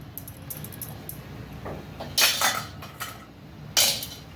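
Rice laddu mixture being stirred with warm ghee in a pot, a spoon scraping and clinking against the vessel in a few sharp bursts over soft steady background.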